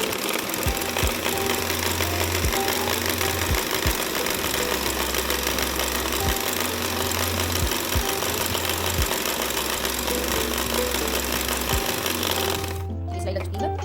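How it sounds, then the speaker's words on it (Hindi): A sewing machine stitches around all four edges of a piece of cloth, running loud and steady with a rapid mechanical chatter broken into repeated bursts as the fabric is turned. "एक बार इस पर सिलाई लगानी है, चारों तरफ सिलाई लगाएंगे ऐसे"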